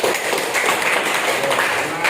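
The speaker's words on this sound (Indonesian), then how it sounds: "tepuk tangan untuk kita semuanya." A class of participants applauds together, a dense, steady patter of many hands clapping close by that carries on evenly for a couple of seconds.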